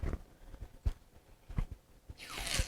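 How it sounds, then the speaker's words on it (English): Ribbon drawn taut along a scissors blade to curl it, while making a wine bottle light craft: a few soft taps and thumps, then a bright, rising zip-like scrape near the end. "And then you're going to just pull the ribbon."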